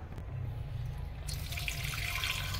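Frozen squid goes into water, with running and splashing water building to a louder, steady rush halfway through, close by and free of talk.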